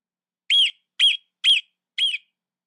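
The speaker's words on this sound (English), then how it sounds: "Chester began to hear the chirp of a marmot, calling, teasing from his hole in the ground" A marmot calls from its burrow in a mountain valley, giving four short, sharp, high chirps spaced about half a second apart, loud and clear against silence.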